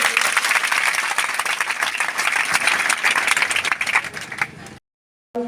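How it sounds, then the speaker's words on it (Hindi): A crowd at a memorial gathering for a martyred soldier claps loudly for young people, a thick sustained burst of applause that cuts off abruptly near the end, followed by a short silence and a brief return of sound. "ऐसे नौजवानों के लिए एक बार जोर से तालियां बजा दीजिए।"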